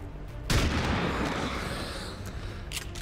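A heavy gunshot in the turn-based strategy game XCOM 2 lands as a sudden loud blast and then rolls into a long, dense rumbling decay that fades slowly.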